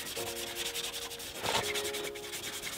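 Steady rubbing against offroad paint protection film on a small vehicle panel, scrubbing mud back in a continuous abrasive swish with one brief stronger stroke, close up and without talk.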